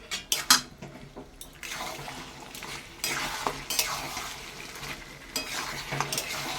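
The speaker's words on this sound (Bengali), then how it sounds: "এবার সামান্য স্টক দিয়ে দিয়ে আমি এই মটনটা আমি কষাতে থাকবো" Mutton being stirred with a little stock in a metal pot while cooking down on a gas stove, with clinking ladle scrapes over a steady wet bubbling sizzle, close and moderately loud, no talking.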